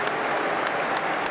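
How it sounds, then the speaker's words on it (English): Newcastle United fans applauding in a football stadium during a match against Nottingham Forest, a steady, dense wash of clapping from a large crowd that holds even throughout, with no clear voices on top. "A warm applause for Elliot Anderson from Newcastle fans as he prepares to take the corner"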